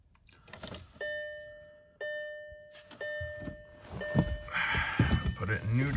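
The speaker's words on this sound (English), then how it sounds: "So I'm gonna cycle our keys again." The ignition key is cycled in a cold VW MK4 TDI, bringing repeated dashboard chimes at one-second intervals with clicks and relay ticks, then rising mechanical whirring and rustle as a person talks.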